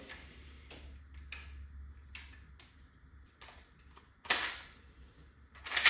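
Faint, irregular light rattling clicks come from a locked follower inside a Valken M17 airsoft magazine, with a sharper knock near the end, heard close in a quiet room with no talking.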